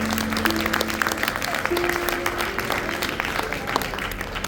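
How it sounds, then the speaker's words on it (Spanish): A Spanish-language church congregation applauds loudly and steadily throughout, with scattered voices and cheers mixed into the dense clapping. "Denle un aplauso fuerte a Dios."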